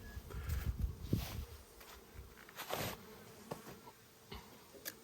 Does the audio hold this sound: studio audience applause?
no